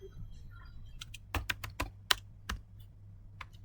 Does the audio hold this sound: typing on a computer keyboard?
yes